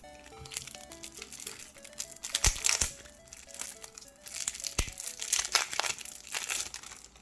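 A Pokémon trading card booster pack is torn open and handled, giving close, bright crinkling and crumpling of foil wrapping in irregular bursts, with a few sharper tearing rips, no voices.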